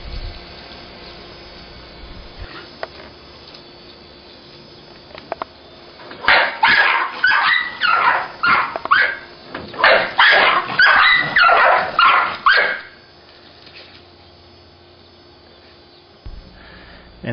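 A dog barks at a stalking iguana in a run of loud, close, rapid barks bunched into two bursts, with quieter sniffing and whimpering before and after.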